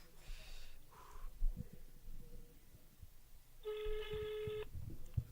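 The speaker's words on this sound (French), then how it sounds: "J'ai appelé avec mon téléphone." A telephone call: short dialing tones at the start, then a single electronic ring tone a few seconds later, fairly faint over low background noise.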